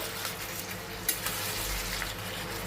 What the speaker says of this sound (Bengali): সেদ্ধ করা ছোলা এক বাটি দিয়ে দিলাম দিয়ে এখন ভালো করে আমি কষবো